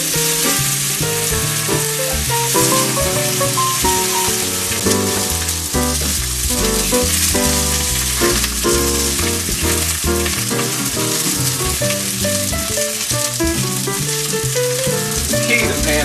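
White fish fillets pan-seared in a very hot pan give a loud, steady sizzle that runs unbroken throughout, with denser harmonic content layered over the frying.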